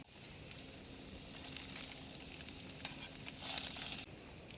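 Garam masala sizzling as it fries in a pan at a rainy jungle campsite, a faint steady crackle and hiss with a brief brighter burst of frying toward the end.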